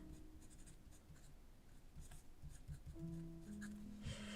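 Fine-nib TWSBI Eco fountain pen in white scratching across paper, faint close strokes in a quiet room, with light rubbing and a soft hum underneath.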